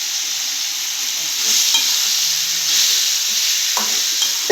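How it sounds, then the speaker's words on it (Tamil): Tomato and green chillies fry in hot oil for a chutney, giving a steady close sizzle with occasional stirring scrapes and no talk. "இதோட 2 பச்சை மிளகாய் சேர்த்துடலாம்."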